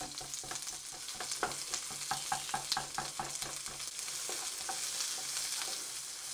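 Onion chunks fry and sizzle in a wok while being broken up and stirred, with a steady hiss under a quick run of scraping and tapping strokes from a utensil, close and with no talking.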